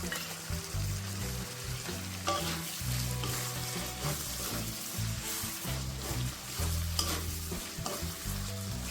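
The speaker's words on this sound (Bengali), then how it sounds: "এই মুহূর্তে আমি একটা বড় সাইজের কোচানো টমেটো দিয়ে দেবো।" Large chopped tomato going into spice masala frying in oil, a continuous close sizzle with repeated stirring scrapes and clatters of a spoon against the pan, fairly loud and steady.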